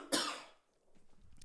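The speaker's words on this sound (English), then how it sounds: "Another cough." A single sharp cough bursts out near the microphone, trailing off into quiet breath and throat sounds.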